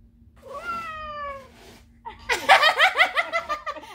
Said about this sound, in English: A meowing calf?